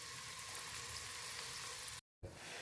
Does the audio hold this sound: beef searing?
yes